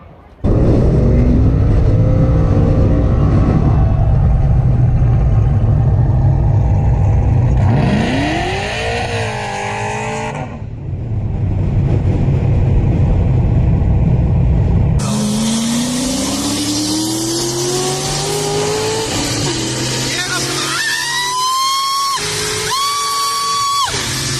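Corvette race car engine accelerating hard, loud rising revs through several gear changes, with a second surge of revving later and tire noise.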